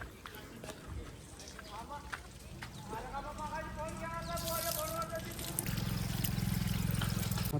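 Water trickles from a tap outside a village school, at first a soft running patter under talking voices, then a louder and steadier gush toward the end.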